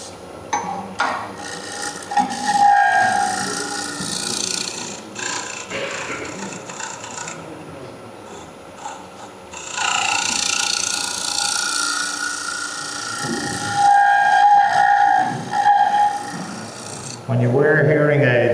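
A turning tool on a wood lathe cuts fine shavings, giving a harsh rasping, scraping whine that comes in long sustained passes with short pauses between them, loud and close.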